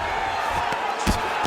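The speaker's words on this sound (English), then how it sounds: "These ground strikes really started to add up." Ground strikes landing in a UFC 5 fight game: a few dull, punchy thuds spaced irregularly over a constant arena crowd murmur, with commentary voices running underneath.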